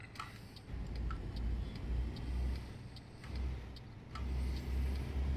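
Peterbilt truck in American Truck Simulator, its engine giving a steady low rumble that swells and eases in repeated pulses, with faint ticking clicks scattered on top and no talk.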